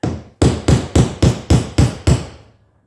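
Seven heavy hammer blows land in a steady rhythm, each a sharp metallic strike with a short ringing decay, close and loud.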